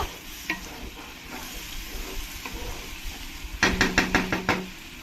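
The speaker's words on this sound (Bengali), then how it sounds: "জলটা দিয়ে ভালো করে মশলার সঙ্গে মিশিয়ে নেব" Spice paste sizzles in a frying pan while water is stirred into it. A steady soft sizzle runs throughout, and near the end comes a quick run of loud spoon knocks and scrapes against the pan.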